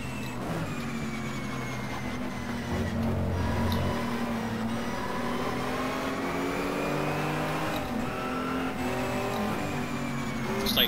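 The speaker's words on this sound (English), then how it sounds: "I like the sound of this car." Race car engine in a racing video game, a steady loud drone with shifting revs and gear changes, with other cars near and no talking.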